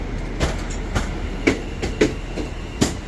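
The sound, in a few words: British Rail Class 730 electric train departing Birmingham New Street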